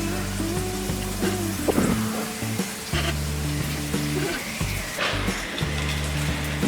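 Cooked rice with kala chana frying for pulao in a hot pan, a steady loud sizzle with occasional stirring scrapes and clatters, no talking.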